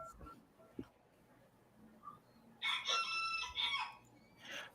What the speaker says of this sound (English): That's just the roosters outside.